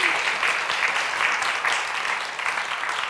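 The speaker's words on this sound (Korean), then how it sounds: "이 대목에서는 박수 한번 쳐주십시오." An audience claps together in a steady, dense burst of applause during a talk by a Korean international social worker, close and even, with no voices over it.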